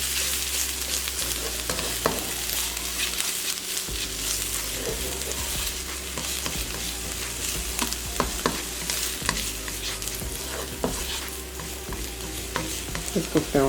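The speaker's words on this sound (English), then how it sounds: "adding in the onions and the garlic, and cook these down. And everything cooked in the oil." Onions and garlic sizzle steadily in hot oil in a pan, a loud continuous fry with scattered sharp clicks and scrapes of stirring, no voices.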